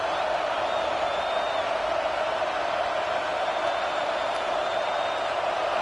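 Football stadium crowd at a Florida Gators college football game roaring steadily on third down, a dense, sustained wash of cheering with faint whistles, no pauses throughout.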